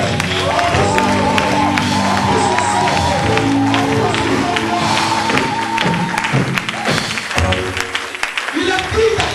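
Church congregation breaking into loud cheering and acclamation during a French-language sermon, a dense crowd roar with voices and whoops running throughout, staying close and steady.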